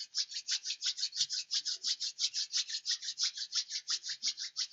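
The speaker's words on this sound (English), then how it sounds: "So rub it until you start feeling that you created some heat." Two palms rub briskly together to build warmth, producing a fast, even rhythm of about thirty close, dry swishes in under five seconds, with no voice.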